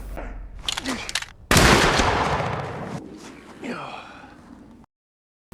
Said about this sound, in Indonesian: mereka langsung saling tembak dalam waktu yang bersamaan